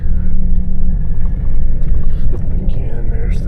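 A car rolls slowly across the grounds of a 160-acre farm with a 1917 farmhouse, a loud, steady low engine and tire rumble heard from inside the cabin, with faint voices in the background.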